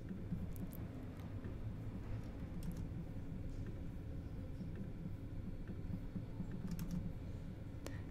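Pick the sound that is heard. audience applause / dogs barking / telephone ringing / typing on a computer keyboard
typing on a computer keyboard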